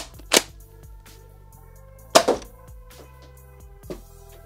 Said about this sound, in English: let's go ahead and fire this thing off, why don't we? See what kind of pop it's got.